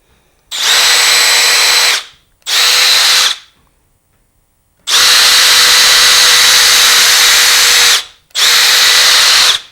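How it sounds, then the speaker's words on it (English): A power drill whirs loudly in four bursts, two short, one long, then another short, with brief pauses between runs as it bores pilot holes into redwood. "we're going to drill a couple of pilot holes before we put the screws in"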